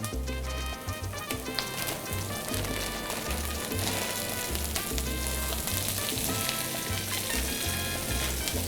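Baby corn and ginger sizzling loudly in a hot frying pan, a dense continuous crackle close up with rhythmic tossing or stirring pulses underneath.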